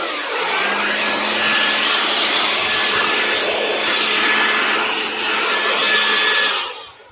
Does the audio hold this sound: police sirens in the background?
no